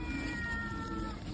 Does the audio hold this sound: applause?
no